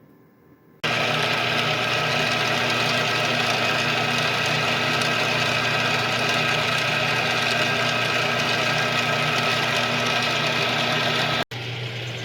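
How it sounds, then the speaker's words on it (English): A workshop machine tool running steadily while machining the last part of a workpiece stood on end, a loud continuous motorized drone with a constant mechanical hum that stops abruptly near the end. "now I've got to stand this up to machine out the last part of this"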